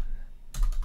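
Keys clatter on a computer keyboard as a terminal command is typed, a short quick burst of close taps that starts suddenly after a brief quiet pause.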